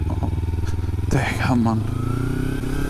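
Motorcycle engine idling and revving in a traffic jam, a steady low drone throughout with a brief rise in the middle, heard close under someone talking.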